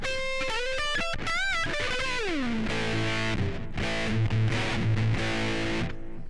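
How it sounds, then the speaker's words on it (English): Electric guitar played through a Grunge Muff fuzz distortion pedal, heavily saturated and sustained, moving from bent single notes and slides into thick, chugging chords with brief gaps between phrases. "Too much distortion."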